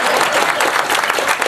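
Audience applause at a live comedy show in a Margate venue, dense steady clapping filling the whole moment, loud and close with no gaps.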